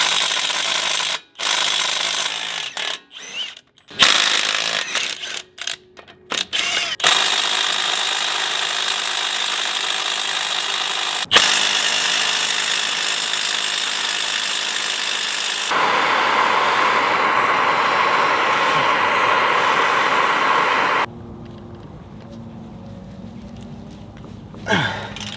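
Wheel bearing work on a 14-wide: a power tool or ratchet spins off 18mm bolts in bursts with clanks and pauses, then a longer stretch of steady mechanical whirring and metallic working, close and loud.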